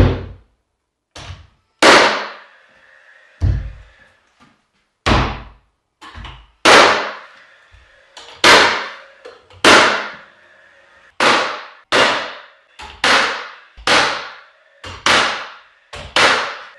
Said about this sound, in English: Now we'll take our finish nailer.